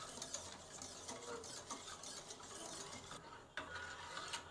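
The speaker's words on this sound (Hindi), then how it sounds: "हल्की आंच पे पकाएंगे। अच्छे से मिक्स करेंगे इसको।" Homemade condensed milk being stirred in a pan over low heat, a continuous soft scraping and rubbing of the spoon against the pan, steady and close with a brief dip near the end, no voices.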